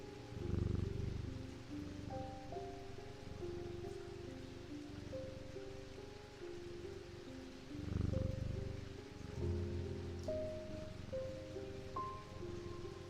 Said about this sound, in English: Enjoy the rain sounds